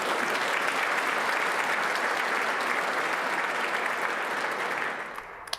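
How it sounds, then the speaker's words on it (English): Dense audience applause fills a civic State of Our City address hall, a loud, sustained wash of many hands that holds steady for several seconds, then fades quickly with a few final claps. "Let's give them a round of applause"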